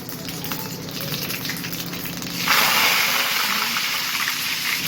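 Mustard seeds, cumin and freshly washed curry leaves hit hot oil in a pan with a loud crackling sizzle that surges halfway through when the leaves go in, then hisses steadily for a tamarind-style Telugu dish.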